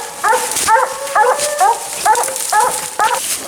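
Hunting dogs bay at a raccoon up a tree during a night coon hunt, a series of repeated, fairly close bawling barks and yips in uneven bursts with no talk.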